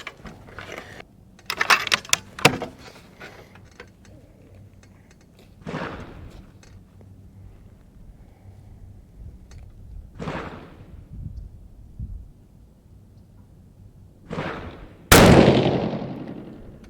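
A 6 Creedmoor rifle fires a handload of 36.5 grains of Varget behind a 109 grain Berger bullet. One loud, sharp report near the end rings out with a decaying tail, preceded by quieter handling clicks and clunks.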